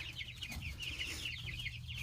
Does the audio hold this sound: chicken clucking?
yes